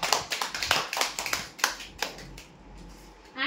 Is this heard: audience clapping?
yes